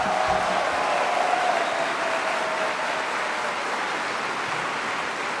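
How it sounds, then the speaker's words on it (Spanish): Dense, continuous applause from a large audience of students, teachers and rectors at the Supérate con el Saber awards ceremony, a steady wash of clapping with no talk over it. "un aplauso para ustedes"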